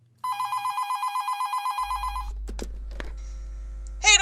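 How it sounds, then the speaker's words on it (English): A landline telephone rings with a rapid electronic trill lasting about two seconds, close and clear, followed by a low hum and scattered clicks and knocks. "Sorry, it's my landline."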